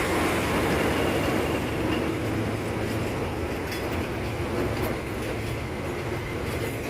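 A Thai railway train rolls steadily past at close range, its loud, continuous rumble and wheel clatter filling the scene without a break and with no voices.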